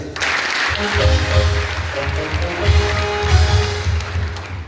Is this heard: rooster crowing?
no